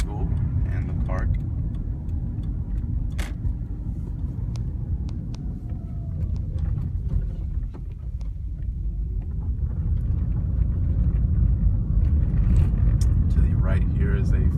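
Car driving down Main Street in a small town, a steady low road rumble and engine drone running throughout at a constant level, with no one talking.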